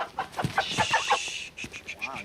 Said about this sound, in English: Colette has brought a few of her chooks along, Bird.